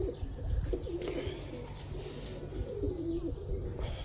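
A stone-eyed pet pigeon coos softly in low, rolling throaty phrases, repeated a few times close by against faint background chirps, with no talking.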